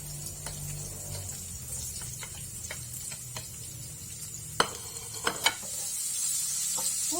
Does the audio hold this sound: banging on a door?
no